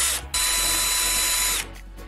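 A power drill unscrews a loose furniture hinge, its motor whining loudly at a steady pitch for over a second before stopping, with short follow-up bursts after.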